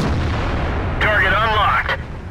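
A Sherman tank's cannon fires in World of Tanks as a heavy boom over a dense rumbling battle bed, followed by a wavering metallic whine.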